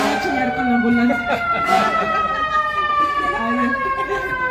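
An ambulance siren wails loudly and close, its rising and falling tone sweeping steadily across the whole stretch with no other sound competing.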